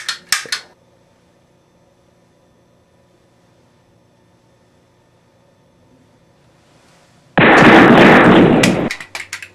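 Gunfire from an oversized hand cannon in a Pulp Fiction spoof: a couple of sharp, quick cracks at the start, a long quiet stretch, then a loud, sustained roaring burst close by near the end, with no talk.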